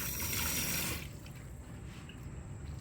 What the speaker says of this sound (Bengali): তো আমি এখানে অলিভ অয়েল অ্যাড করে দিয়েছি।